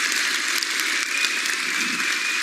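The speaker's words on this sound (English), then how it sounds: "So give the man another applause." An audience applauds at a game developer's fan festival presentation, a steady, dense wash of many hands clapping that holds level throughout, with no talking over it.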